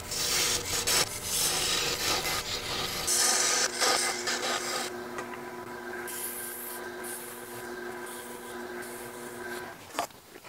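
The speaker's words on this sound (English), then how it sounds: "sand as I go" Sanding a wooden goblet stem spinning on a lathe: a steady rough rubbing hiss over the motor's hum, loud at first, then easing into a lighter, softer rub.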